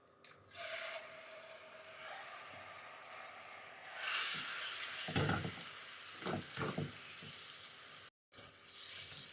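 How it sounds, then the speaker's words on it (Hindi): Marinated chicken pieces for a restaurant-style chicken tikka karahi hiss and sizzle in hot oil in a pan, a steady crackle that gets louder partway through as the meat is moved around, with a short break near the end. "तेल गरम हो चुका है, अब हम इसमें मैरिनेट किया हुआ चिकन ऐड करेंगे।"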